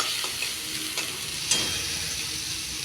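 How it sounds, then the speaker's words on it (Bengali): Onion and garlic fry in a pan on low gas, a soft steady sizzle broken by a few scraping stirs of a spoon against the pan. "ভাজা হচ্ছে"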